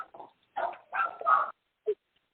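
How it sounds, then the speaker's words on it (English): A dog barks in a quick series of four or five sharp, fairly close yaps and yips with short gaps between them, the last bark short and separate. "Who is the barking dog?"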